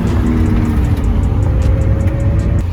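Lamborghini Aventador engine with its single-clutch gearbox engaging in automatic mode, a steady loud low rumble from inside the car with a slight shift near the end.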